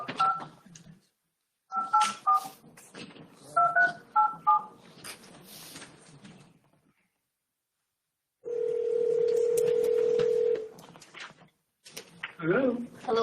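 Telephone keypad tones dialing out to join a council conference call, several quick bursts of beeps followed by a steady dial or ringing tone, with people murmuring and moving in the room around it.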